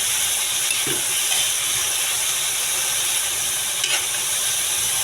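Bitter gourd is tossed in a hot pan, a continuous sizzle and hiss with a couple of soft scraping stirs, close and fairly loud.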